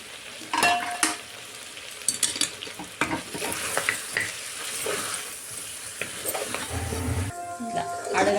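Mutton paya with garam masala being stirred in a pan, a spoon scraping and knocking repeatedly over a continuous frying sizzle, with a voice talking over it.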